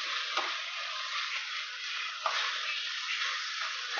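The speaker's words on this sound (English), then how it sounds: "so now let's mix it" Kimchi fried rice stirred in a hot pan, giving a steady sizzle with soft scraping strokes from the utensil, close and continuous with no talking.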